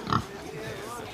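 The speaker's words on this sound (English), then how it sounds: "Poor pig." A pig gives a short grunting squeal at the start, in a Western drama scene, and a voice carries on right after it.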